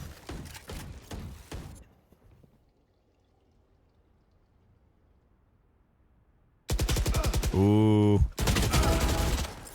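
Gunfire in the tactical shooter VALORANT, loud sustained bursts of automatic fire that come in after a quiet stretch and follow excited commentary.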